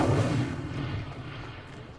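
An Incendio fire spell cast in a Harry Potter video game gives a short, loud, booming whoosh of flame that fades over two seconds into a lingering low rumble.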